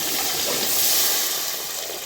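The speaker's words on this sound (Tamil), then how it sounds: "நம்ம இப்போ உலைக்கு தண்ணி ஆட் பண்ணிக்கலாம்." Water pours into a cooking pot for turkey biryani, a continuous rushing hiss that swells slightly and then eases over a couple of seconds, close up.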